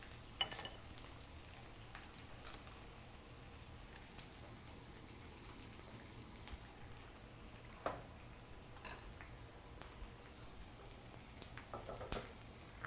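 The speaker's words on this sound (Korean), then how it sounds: "소리 장난 아니죠? 지글지글지글." Steady crackling sizzle of black pork frying in a pan, with soft pops and a few louder clicks scattered throughout, fairly quiet and continuous.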